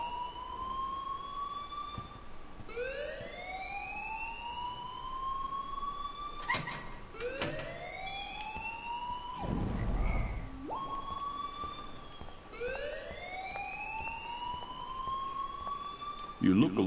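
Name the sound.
alarm ringing in Life is Strange video game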